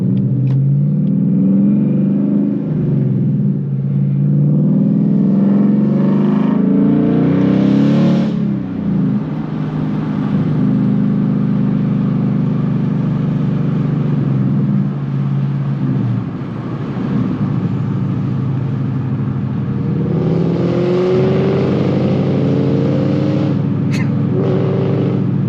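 Ford Mustang GT engine, an S550 model, heard from inside the car: a loud, steady deep rumble that rises in revs and falls back several times across the stretch, with no talk over it.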